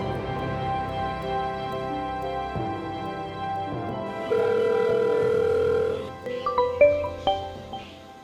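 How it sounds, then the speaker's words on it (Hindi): Telephone call tones sound alone, with a steady tonal hum shifting into a held ring tone, then a brief flurry of short dialing beeps toward the end. "तू रुक जा, मैं एक मिनट एक फोन कर लूं।"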